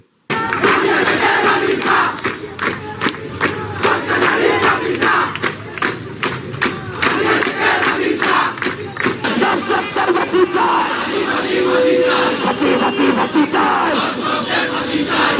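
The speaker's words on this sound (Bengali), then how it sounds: "তারা স্লোগান দিয়ে কিন্তু তারা এখানে অবস্থান করছে" A dense protest crowd chants slogans in rhythmic bursts demanding justice for the killing of Ramisa, loud and sustained throughout with many voices shouting together.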